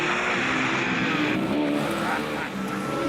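A convertible car driving in wet weather, with a loud, steady rush of engine and tyre noise that holds for the whole stretch with no pause.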